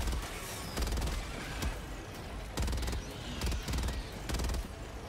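Automatic weapon fire in the video game Helldivers 2 comes in several short rattling bursts over a dense, noisy battle backdrop, loud and close, with no talking over it.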